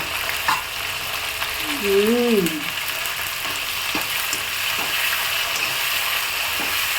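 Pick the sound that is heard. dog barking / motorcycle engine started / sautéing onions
sautéing onions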